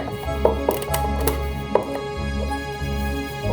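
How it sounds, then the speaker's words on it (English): Metal lid being pried off a tin of charcloth: a few sharp metallic clicks and scrapes at irregular intervals, close by, over a steady low hum. "lid doesn't want to come off"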